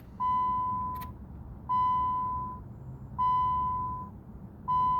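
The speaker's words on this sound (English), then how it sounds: "the chime in this car sounds like an old Dodge" A 2006 Nissan Sentra SE-R SpecV's key-in-ignition warning chime sounds four times in a steady, evenly spaced pattern, each a clear electronic tone lasting nearly a second.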